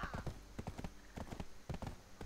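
Horse hooves clip-clop in the video game Black Desert Online, a quick series of hollow, close, fairly loud steps in an uneven trotting rhythm over about two seconds.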